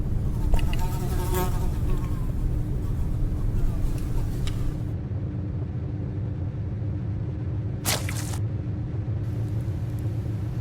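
A housefly buzzes close by in an animated horror story, a persistent droning whine that wavers in pitch and stays fairly loud over a low background rumble.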